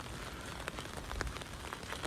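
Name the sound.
rain falling in the city of Delft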